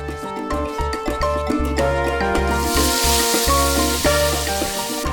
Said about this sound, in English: Now we're going to cook the beef on high heat.